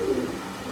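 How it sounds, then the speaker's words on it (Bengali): An imported Omani high-flying pigeon gives a single short, low coo close to the microphone, fading quickly into quiet background. "এই যে কবুতরটা।"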